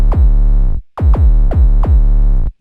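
Distorted sub bass synth from Serum with overdrive for a tearout dubstep track, heavy and close, playing one sustained growling note, a short gap, then a chopped run of pulsing hits.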